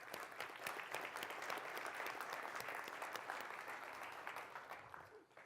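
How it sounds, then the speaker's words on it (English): Applause from a conference audience, a steady wash of many hands clapping that stays even and then fades slightly at the end, with no voices over it. "Give them a big round of applause."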